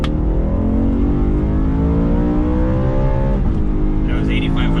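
BMW E92 M3 engine revving hard to 8,500 RPM: a loud, close, continuous rising howl that climbs steadily, briefly drops at a gear change, then resumes pulling.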